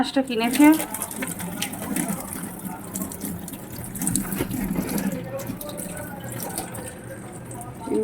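Water runs and splashes into a container as freshly bought prawns are put in to soak, a steady gushing under a person's talking.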